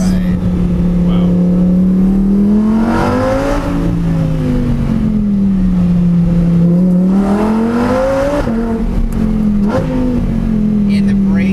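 Lamborghini Murcielago SV engine pulling hard uphill on a mountain road, loud and close, its pitch rising and falling through gear changes over a steady roar.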